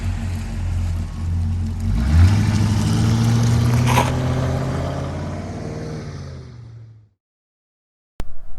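A lifted Mercury Grand Marquis engine drones loud and close as the car drives, rising in pitch as it accelerates around the middle, then cutting to near silence before a brief burst of noise at the end.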